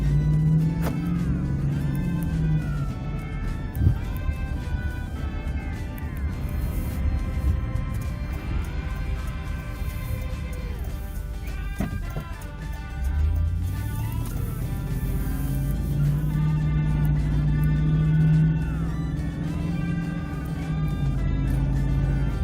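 A 2004 Ram pickup with a newly replaced rear axle accelerates along a road, its engine note climbing and falling through the gears as a steady, close drone runs throughout. No one speaks.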